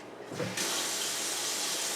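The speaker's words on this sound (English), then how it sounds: "First I better give this a little bit of water in something." Indoor tap turned on to fill a container for watering a Phalaenopsis orchid: a brief thud, then a steady, close rush of running water that continues evenly to the end.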